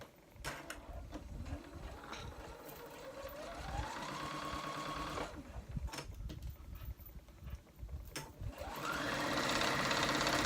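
A sewing machine hems the last unhemmed stretch of a reversible dress, its needle running in a steady whirring chatter that speeds up and slows in bursts, with short pauses and handling clicks between runs.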